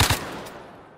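Automatic gunfire in the VR shooter Zero Caliber: a brief, loud burst of a few rapid shots that fades into a reverberant tail within a second.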